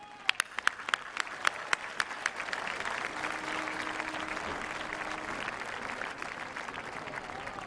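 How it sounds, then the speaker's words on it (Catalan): Audience applause at a havanera concert in Calella de Palafrugell: a few sharp individual claps build into sustained, even clapping from a crowd, moderately distant and without speech. "rebem amb un fort aplaudiment els"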